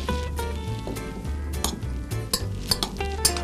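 Spoon stirring a filling of cheese, cabbage leaves and meat with fried onion in a dish, with quick scraping strokes and sharp clinks of metal against the bowl over a faint sizzle, close and uneven.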